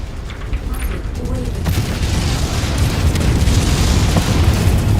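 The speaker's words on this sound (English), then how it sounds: "Explosion imminent. Your target is about to crit" In the MechWarrior 5: Mercenaries battle game, heavy explosions boom in a continuous, rumbling barrage that swells slightly louder toward the end, dense and close.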